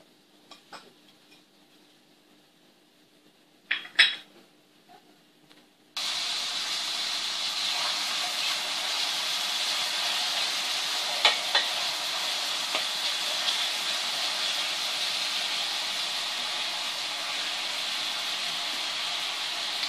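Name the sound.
onion frying in heated oil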